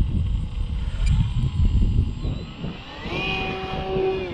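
A T-28 Trojan warbird model airplane flies overhead, its propeller engine a steady buzzing drone that rises into a higher, sustained whine partway through, moderately loud and alone without talk.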